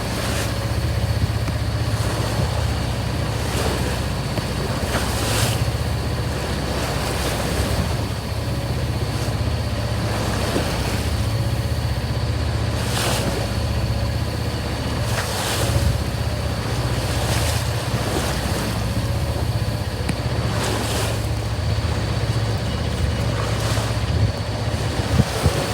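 A sailing boat in high winds and rough seas, with continuous wind buffeting the microphone over the rushing wash of waves against the hull and periodic louder surges of spray. No one speaks.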